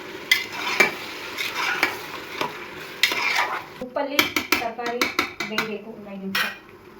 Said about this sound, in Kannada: ಸೊ ಇದಕ್ಕೆ ನಾನು ಶುಂಠಿ ಬೆಳ್ಳುಳ್ಳಿ ಪೇಸ್ಟ್. ಈಗ ಇದನ್ನು ಫ್ರೈ ಮಾಡ್ಕೊಬೇಕು.